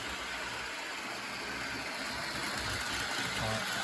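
An old model train locomotive's small electric motor runs steadily after a tune-up, giving a continuous close, even whirring hum with no pauses and no voices.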